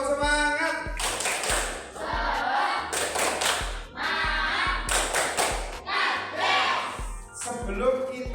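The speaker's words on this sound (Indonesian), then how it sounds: "Tepuk semangat." Schoolchildren in an elementary classroom perform a rhythmic spirit clap, bursts of loud group clapping in a patterned beat alternating with brief chanted voices, close and lively throughout.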